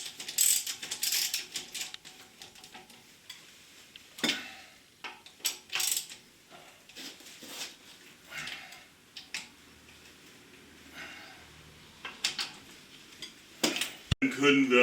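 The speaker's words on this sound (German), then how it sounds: "Wir ziehen die Schrauben jetzt schön über Kreuz mal handfest." Wheel bolts on a VW Golf 4 Cabrio being hand-tightened crosswise, close ratchet clicks and metallic tool clinks coming in irregular bursts, with a sharp clank near the end.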